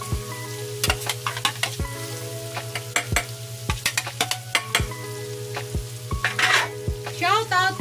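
Chopped onion and garlic sizzle in a hot pan for carbonara, stirred with a utensil that taps and scrapes the pan in a steady rhythm over continuous frying hiss.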